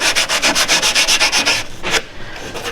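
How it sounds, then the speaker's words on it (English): A sanding block rubs back and forth on a strop in quick, even strokes, about a dozen rhythmic scrapes close up, then slowing to a couple of softer passes with no talking. "You can use your sanding block."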